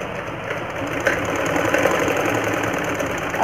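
A sewing machine stitches the hem of a baby's pants, running steadily at close range with a continuous mechanical whir and rapid needle chatter and no talking.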